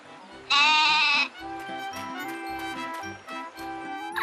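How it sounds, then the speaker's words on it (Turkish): A single loud, close bleat rings out, followed by fainter bleating and a light jingle in the background. "keçi."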